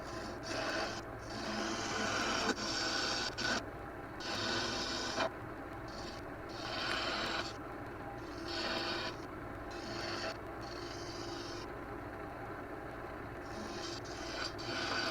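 A wooden blank spins on a Central Machinery lathe from Harbor Freight while a turning tool rounds it out, producing a continuous rough hiss and rasp broken by repeated short pauses as the tool lifts away.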